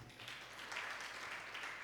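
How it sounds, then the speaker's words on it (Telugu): Loud, steady applause from a church congregation during a Telugu Christian sermon, a dense wash of many hands clapping together that carries on without a break. "చప్పట్లు కొట్టాలి బిగ్గరగా"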